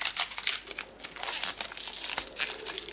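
Crinkling plastic packaging around a speed cube being unwrapped, a close, busy stream of crackles and crumples with no pauses.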